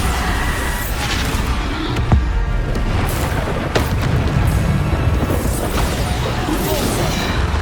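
Continuous booming spell explosions in Hogwarts Legacy combat, dense overlapping blasts and crashes with heavy low rumble and sharp impacts, loud and close, sustained without pause.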